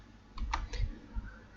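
A handful of crisp presses on a computer keyboard click out in a short uneven cluster, close and distinct, with a few dull thumps alongside.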